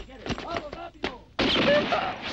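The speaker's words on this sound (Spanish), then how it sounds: "¡Ha sonado dos disparos!" Two sharp gunshots ring out in a stable in an old Western setting, the first a brief close crack amid talk and the second followed by a loud, sustained burst of noise.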